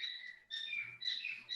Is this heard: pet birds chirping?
yes